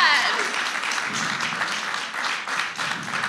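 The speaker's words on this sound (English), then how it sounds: "All right, let's give her a round of applause." A festival crowd at a live podcast taping gives a round of applause, steady mid-level clapping with a few voices briefly over the start before the clapping carries on alone.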